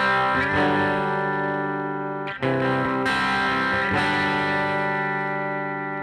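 Electric guitar played through a Sunn 100S amplifier on the bridge pickup with the treble raised, giving loud, sustained distorted chords that ring with bright harmonics, with a couple of brief breaks between strums and no talking.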